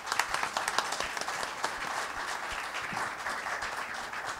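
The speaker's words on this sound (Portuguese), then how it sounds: "Palmas." Steady applause from an audience at a Brazilian literary academy event, dense clapping that holds at an even level throughout, with a few sharper claps standing out near the start.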